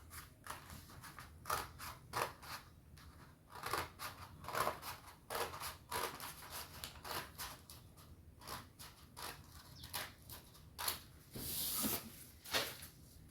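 Scissors cut fabric for a circle skirt in a string of close, crisp snips, irregular but frequent, with rustling cloth between the cuts and no talk.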